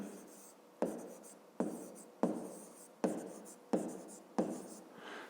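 Pen or chalk strokes on a writing surface while numbers are written down for a 5th-grade math exercise, a run of seven distinct scratchy marks at a fairly even pace, close and quiet.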